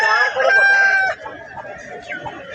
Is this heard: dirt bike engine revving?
no